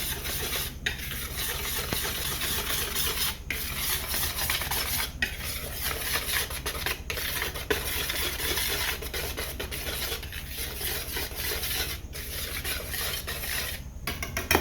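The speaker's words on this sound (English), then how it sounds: "We're just gonna whisk this all together." A whisk works dry coconut sheet cake ingredients together in a bowl, making a steady, rhythmic scraping and swishing close by. Brief pauses and clinks against the bowl come every few seconds.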